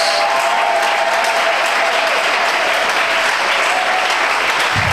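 A church congregation applauds steadily throughout, a dense, loud wash of clapping with a faint crowd murmur and no words.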